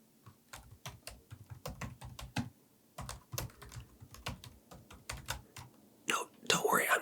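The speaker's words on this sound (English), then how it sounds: "There were other keystrokes that I was putting in there, filling out other information" Rapid, crisp keystrokes on a computer keyboard come in uneven bursts with short pauses, close and intimate as in ASMR, ending in a rustle of handling noise.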